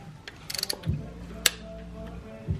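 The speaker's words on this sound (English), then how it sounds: "Now we're going to torque these down." Torque wrench ratcheting as spark plugs are tightened on a Honda Civic Si: a quick run of close mechanical clicks, then a sharp single click, heard over a low hum.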